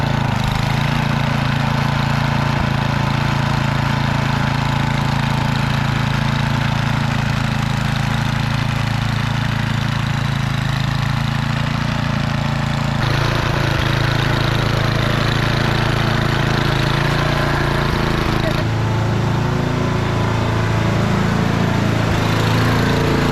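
An MTD 824 snowblower, freshly restored, runs outdoors in a snowy yard with a steady, loud mid-pitched engine drone and a shift in load partway through.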